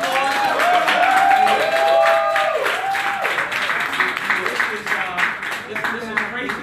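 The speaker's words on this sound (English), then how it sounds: "let's give them a round of applause." An audience gives a loud round of applause with cheering and whoops, the clapping continuing steadily and growing more scattered toward the end.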